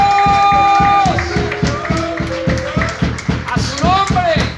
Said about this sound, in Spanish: No sé si te parece darle un aplauso al Señor.